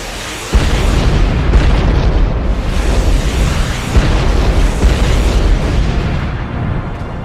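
A loud, rumbling explosion from a flaming spaceship crashing into a city bursts out early and rolls on in a dense, sustained roar of blasts and debris.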